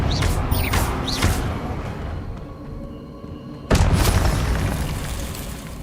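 Fiery Confringo spell blast in Hogwarts Legacy, a loud booming explosion that bursts suddenly partway through, preceded by softer magical whooshes and rumble.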